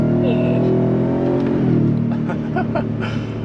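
Ford F-150 Raptor R pickup pulling hard after a downshift, a loud steady engine roar rising in pitch close by, with a voice talking over it.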